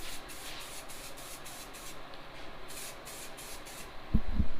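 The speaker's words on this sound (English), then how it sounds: "Now I'm just gonna shoot them with a coat of paint, some Duplicolor semi-gloss" An aerosol can of Duplicolor semi-gloss paint sprays a steady, continuous hiss over cleaned electric fan motors from a 1971 Pontiac GTO, ending with a brief low thump.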